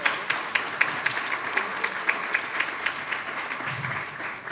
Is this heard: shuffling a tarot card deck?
no